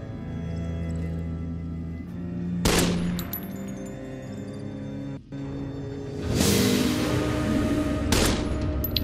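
10mm pistol fire in Fallout New Vegas, sharp shots at intervals under a steady game soundscape, with a louder burst of firing later on.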